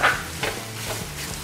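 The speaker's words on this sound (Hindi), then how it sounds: "और 1 मिनट हम सॉस के साथ चिकन को भून लेंगे" Chicken sizzles and is stirred in a pan with sauce and green onion, a soft steady frying hiss with a few scraping stirs.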